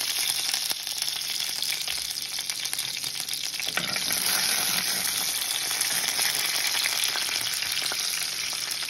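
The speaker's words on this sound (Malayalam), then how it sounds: "കടുക് ഒന്ന് പൊട്ടട്ടെ. കരിയാപ്പില ഇട്ട് കൊടുക്കാം." Mustard seeds and curry leaves sizzling and crackling in hot oil in a pan, a loud continuous fry that swells briefly as the leaves go in, with no voices.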